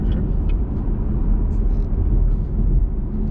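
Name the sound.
Dodge Charger V8 engine accelerating in traffic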